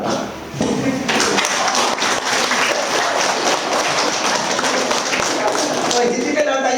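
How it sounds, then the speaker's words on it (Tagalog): A church congregation at Mass in a chapel bursts into sustained, loud applause that carries on for several seconds, with voices mixed beneath the clapping. "tumayo at umalakpak"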